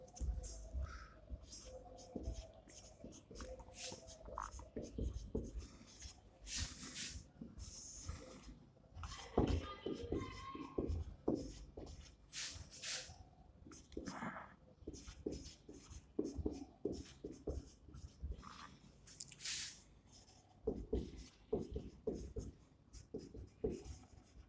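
Chalk or marker writing on a board during a Hindi-language lecture on photosynthesis, a steady run of close scratching strokes and taps that goes on throughout with only short pauses.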